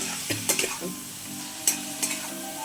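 Chopped onion and whole green chilies frying in a pan, a low sizzle broken by a few sharp spatula clinks and scrapes, close and alone.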